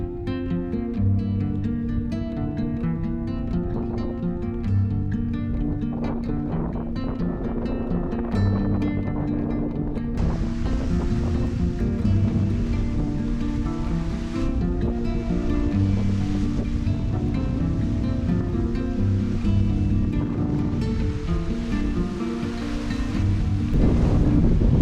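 Strong wind roars and buffets a microphone on a foggy Peak District hillside, a continuous loud rushing that gusts and swells throughout.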